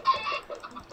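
A burst of chicken clucking from an egg sword in the Minecraft Effective Swords mod, a few short close clucks packed into about a second with no talk.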